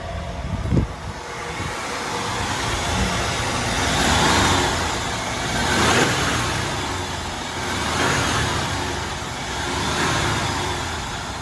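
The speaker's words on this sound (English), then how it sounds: "So we'll let it idle for a little bit and see if we can replicate it while we're just sitting here." A 1994 Ford F-250 pickup with the 4.9L engine and 5-speed idles steadily, a loud, continuous low rumble that swells and eases slightly over the length of the clip. No one speaks.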